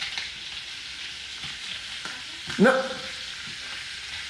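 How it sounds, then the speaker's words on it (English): Cheddar cheese frying in a pan gives a steady, moderate sizzle throughout, with one brief louder clatter partway through and no talking. "You're putting cheddar cheese in a frying pan."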